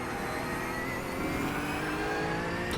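A GT3 race car in a sim racing game at the Nürburgring lapping through the Mercedes-Benz Arena, with a steady engine drone and whining gearbox tones under engine braking, loud and continuous with no talk.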